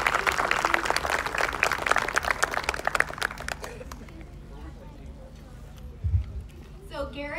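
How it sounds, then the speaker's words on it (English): Audience applause after a Project Music student performance at a family service day, dense clapping loud for the first few seconds then thinning and fading out, with a brief thump and a voice near the end. "One more round of applause for all of them."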